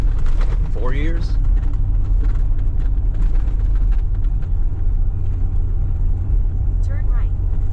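Steady, loud rumble of a Ford Super Duty pickup truck driving along a rough road, the engine and road noise continuous throughout, with a brief voice heard over it.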